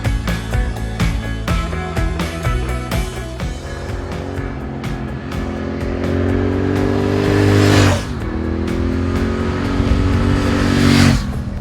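A 2016 Triumph Thruxton R motorcycle out on a ride, its engine note rising and falling through gear changes with a loud, steady, close exhaust drone and rhythmic firing pulses, no voices.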